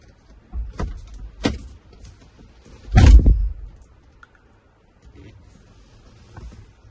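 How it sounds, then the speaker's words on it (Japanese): A few sharp thuds ring out, then one heavy, louder slam of a Toyota Voxy Hybrid 90-series car door closing nearby, followed by quiet. "まずはこのドアからドアの衝撃で試してみたいと思います"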